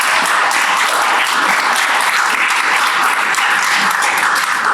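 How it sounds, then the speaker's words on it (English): Audience applause at a talk on employer-centric healthcare, a loud, dense, steady burst of many hands clapping for several seconds without pause. "giving a round of applause for that"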